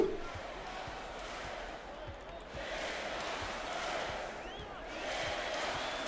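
Basketball arena crowd in the NBA 2K23 video game, a steady roar with rising cheers and whoops, ball bounces thudding periodically underneath, and a commentator-like voice faintly present.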